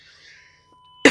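After near silence with a faint tone, a single sharp cough bursts out loudly at the very end.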